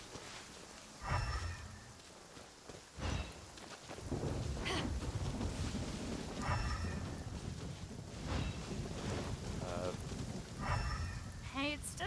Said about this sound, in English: Hey, it's just a little lightning.